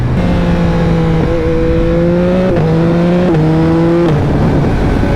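A 2021 Yamaha MT-09 motorcycle with a flashed ECU accelerates hard, its loud, close engine rising in pitch through several quick gear shifts, with no talk.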